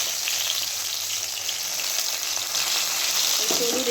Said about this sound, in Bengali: এখানে বেগুনটা ভাজা হোক